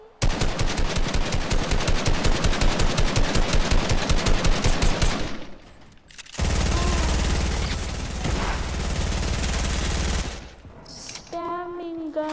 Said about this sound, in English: Spamming gun.